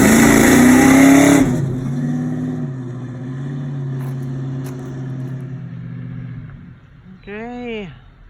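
A 1938 Dodge Ram hot rod roars off down the road, loud engine at first, then a lower rumble fading as it pulls away, with a brief voice at the end.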